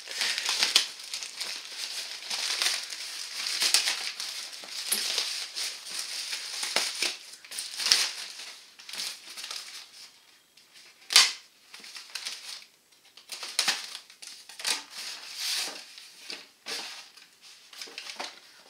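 Plastic packaging crinkles and rustles as a parcel from a cheap online order is unpacked, in close, bursty handling sounds with sharp crackles and brief pauses, no talk.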